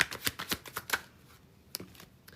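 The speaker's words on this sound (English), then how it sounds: "Shuffling here." Tarot cards being shuffled make a close, quick series of soft riffling snaps for about a second, followed by quiet and then a single card tap.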